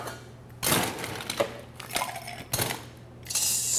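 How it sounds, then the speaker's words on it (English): Ice clinking and rattling in a mixing glass as a Kentucky Medicine cocktail with liqueur and aromatic bitters is stirred, several bright bursts of jostling cubes separated by short pauses, close and fairly quiet. "stir that up with some ice"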